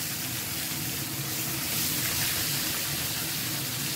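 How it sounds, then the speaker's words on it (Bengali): Sorputhi fish frying in hot oil in a home kitchen, giving a loud, continuous hissing sizzle that holds steady throughout, with no voices. "এখন তেল গরম করে দিয়ে দিব মাছগুলো"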